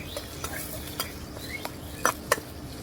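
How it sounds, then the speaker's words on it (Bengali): Onion with green chillies and salt frying in oil in a pan, a faint sizzle under a few sharp metallic clinks of a spoon stirring against the pan. "পেঁয়াজটা একটু ভাজা হোক"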